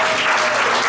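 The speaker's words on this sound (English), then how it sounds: "Clap if you like dogs." Audience clapping at a stand-up comedy show, a brief dense burst of applause from a crowd filling the room.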